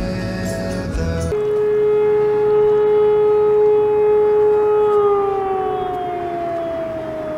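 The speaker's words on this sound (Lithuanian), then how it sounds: "Tik vienas pakartojimas sirenas buvo įdomiai." An outdoor siren holds one loud, steady wailing tone after a brief burst of noise, then slowly slides downward in pitch as it winds down, sounding distant across open countryside.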